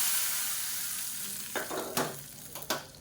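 Hot tempering poured into cabbage sambar, a sizzle that fades and then flares with a few sharp crackling bursts, close and alone.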